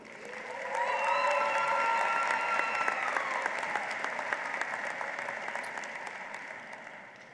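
Audience applause at a Northeastern Illinois University December 2019 graduation ceremony, welcoming a student speaker to the podium. Steady, dense clapping from a large crowd swells in and holds for several seconds before tapering off, with faint whistles or cheers mixed in.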